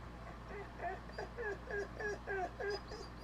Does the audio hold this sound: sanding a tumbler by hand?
no